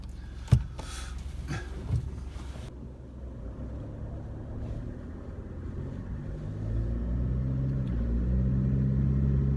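A Mitsubishi L200 pickup truck engine rumbles low and steady after a couple of brief knocks, building slightly as it pulls away in drive, close by with no talking.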